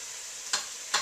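Two quick scraping strokes of a spoon through a pot of kale and lentil soup with fresh parsley, soft and close against a quiet background.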